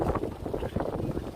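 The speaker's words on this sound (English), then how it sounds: "It sounds windy" Wind blows outdoors on a Manhattan street and buffets the microphone, a close, rumbling low roar with uneven gusts.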